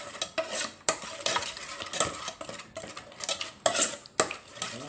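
Thai panang curry paste simmering in a pan for pork panang, stirred with sharp repeated metal scrapes and clinks of a utensil against the pan over a soft sizzle, close and busy throughout.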